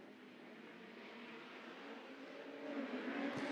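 Autograss race cars pull away from the start line at a Scunthorpe round of the British Autograss Series, a steady broadband engine roar building gradually louder as the pack gets under way, with no one talking.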